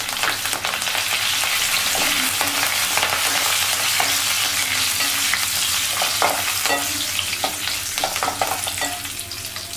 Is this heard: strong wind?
no